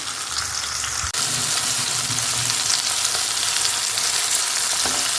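Garlic and green chillies frying in a pan, a loud, steady, close sizzle that continues throughout with a brief dip near the start.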